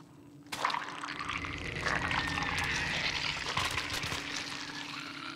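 Water in the video game Little Nightmares, a sudden rush of pouring, splashing liquid that continues as a steady trickling flow, fairly faint.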